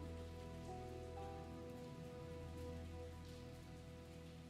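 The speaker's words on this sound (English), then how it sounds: "It starts to rain." Rain falls steadily on surfaces, heard from inside a cave as a soft, even patter with a low resonant hum beneath it and no voices.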